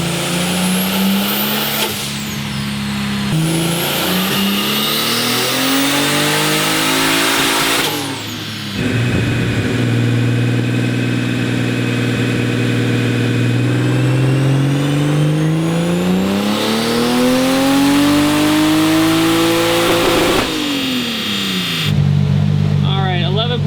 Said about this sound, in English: But this Garrett 3071R is absolutely incredible. That is the best sound ever.